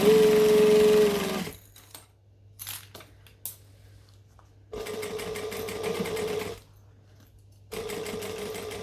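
A sewing machine stitches fabric around a bend in bursts of rapid mechanical whirring, stopping and restarting several times with short quiet pauses and small handling clicks in between.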